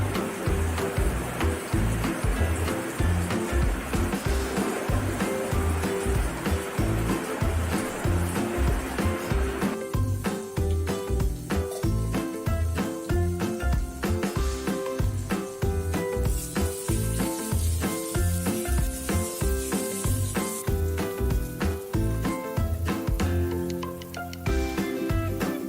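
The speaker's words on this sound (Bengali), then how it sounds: "কচুমুখিগুলোকে আমি তেলটাতে একটু ভেজে নেব।" Taro roots (kochu mukhi) frying in oil with chopped onion for a rui fish curry, a loud steady sizzle and crackle running throughout with clinks and stirring noises on top.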